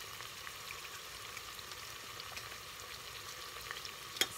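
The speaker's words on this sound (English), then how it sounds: "Sizzling, sizzling" Fonio jollof cooking in a pan, with garlic just added; a steady, faint, hissing sizzle with fine crackle throughout, no voices over it.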